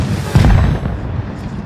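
A tank firing a shot in World of Tanks Blitz, one loud close boom with a deep rumbling tail that fades over about a second, no talk.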